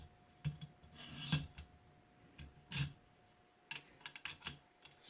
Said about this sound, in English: we're just going to remove the burr. Use as much of the stone as possible